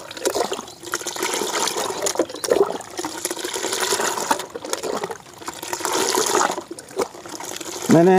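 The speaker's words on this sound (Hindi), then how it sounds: "ये हमने लिक्विड सॉप ले लिया है और इसको हम अच्छी तरह से मिला लेंगे।" Liquid soap being stirred into water for a homemade organic insecticide, uneven sloshing and swirling of liquid in bursts, fairly loud and close, with a few brief pauses between strokes.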